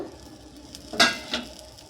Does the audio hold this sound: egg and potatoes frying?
yes